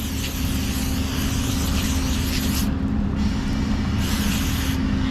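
Brake cleaner sprays steadily and loudly to flush excess oil from a part during oil and filter service on a CAT 777 haul truck, a continuous hiss that briefly cuts out and resumes over a constant low mechanical rumble.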